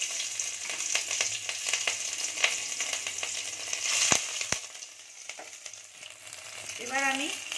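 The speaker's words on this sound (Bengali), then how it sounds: "এবার আমি যে তেলটা ছিল সেই তেলটাতে আরেকটু অল্প তেল দিয়েছি, দিয়ে আমি 1 চামচ রসুন আর আদা কুচি আমি এর মধ্যে দিয়ে দিলাম।" Chopped garlic, ginger and two green chillies sizzling in hot oil in a pan for chilli chicken, a continuous close crackling hiss with occasional sharp spatters and a brief stir near the end.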